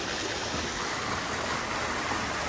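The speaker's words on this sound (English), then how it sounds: "there's a little waterfall that's actually above it" Small waterfall above Castaic Falls in the Angeles Forest, a steady broadband rush of falling water that fills the whole moment, close and even with no voices.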